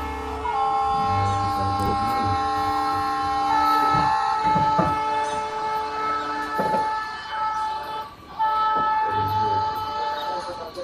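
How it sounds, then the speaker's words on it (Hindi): AMD locomotive running in Trainz Simulator on a high-detail route, with sustained tonal engine and horn-like drones that swell and shift steadily throughout. "काफ़ी दिन बाद हमने AMD लोकोमोटिव यूज़ किया है ना"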